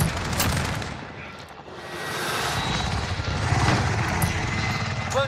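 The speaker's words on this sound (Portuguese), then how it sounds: "Helicóptero de suporte pronto para lançamento." A support helicopter in a video game thrums with a continuous rotor and engine roar, while bursts of gunfire crackle around it.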